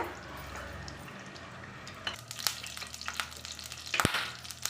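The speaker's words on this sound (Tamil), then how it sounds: "கடுகு நல்லா பொறியிட்டோம்" Mustard seeds splutter and pop in hot oil in a pan for a South Indian tempering, with a steady close sizzle and a scatter of sharp crackles that build toward the end, with no talking.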